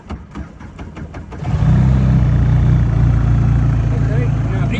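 A Williams jet tender's engine cranks with a few quick rhythmic bursts, then catches at about 1.5 seconds into a loud, steady close-up running rumble.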